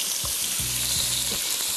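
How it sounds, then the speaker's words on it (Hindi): Chicken frying with garlic in a pan over high heat, a continuous close bright sizzle with a few low knocks and scrapes, no voices. "और चिकन को भी तेज़ आंच पे सबसे पहले फ्राई करना है।"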